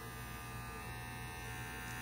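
A Happy Curves electric bikini body trimmer, a rechargeable waterproof women's razor, runs with a steady, close, continuous buzz that holds an even level throughout.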